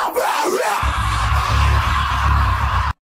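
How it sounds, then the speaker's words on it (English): Screaming rock vocals burst in over a heavy distorted bass-driven mix, loud and sustained for a few seconds before cutting off abruptly. "now the screaming vocals enter"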